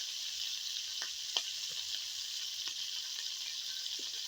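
Chili powder fries in a pan of oil while it is stirred for a silver carp and cauliflower fish curry, giving a quiet, steady sizzle with a few soft scrapes of the spoon.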